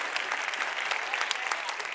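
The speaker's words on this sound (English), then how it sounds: "Big round of applause for you." Audience applause filling a room after a show of hands at a talk, steady dense clapping throughout, loud and close with no speech over it.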